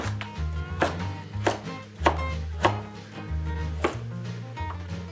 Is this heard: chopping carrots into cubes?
yes